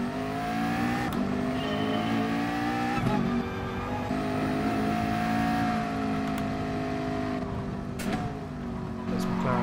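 A McLaren race car engine in Gran Turismo Sport drones and revs continuously, climbing in pitch and dropping back at each gear change, with a few brief tire squeals breaking in.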